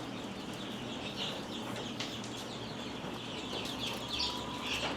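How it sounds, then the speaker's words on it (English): Male quail crowing from a pen, several short, high, chirping calls, moderately distant, over a constant background hum and faint rustling. "like that sound right there, that's a male crowing"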